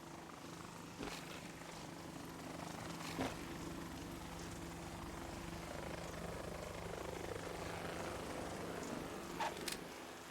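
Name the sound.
helicopter in a video game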